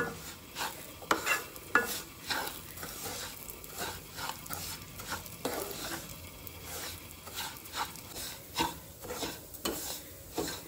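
Semolina (rava) roasting and being stirred in a pan on a low flame for a Goan veg thali, with repeated scraping strokes and faint sizzle, fairly quiet and steady, no talking.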